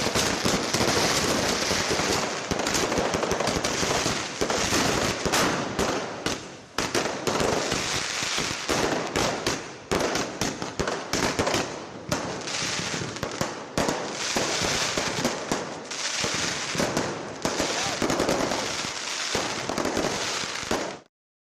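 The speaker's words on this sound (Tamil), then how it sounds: "உத்தரப்பிரதேச மாநிலம் லக்னோவில் வான வேடிக்கைகளுடன் இரவை வண்ணமயமாக்கி தீபாவளியை" Diwali fireworks burst over Lucknow at night, a dense, loud, continuous barrage of crackling firecrackers and booming explosions with no pauses and no speech.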